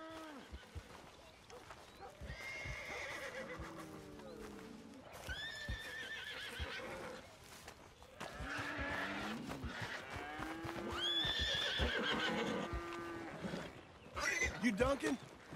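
A horse in the video game Red Dead Redemption 2 whinnies and neighs repeatedly, with clip-clopping hooves and other animal calls in an outdoor setting, while characters talk intermittently throughout.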